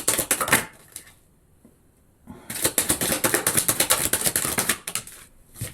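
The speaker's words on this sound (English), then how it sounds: "I'll shuffle them in" Cards riffled and shuffled close up in rapid crisp bursts, a pause in the middle, then more brisk shuffling.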